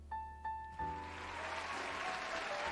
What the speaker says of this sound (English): This is the applause.